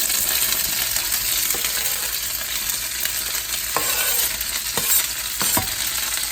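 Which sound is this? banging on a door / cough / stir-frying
stir-frying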